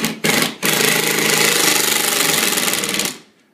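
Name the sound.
drill driving screws into plasterboard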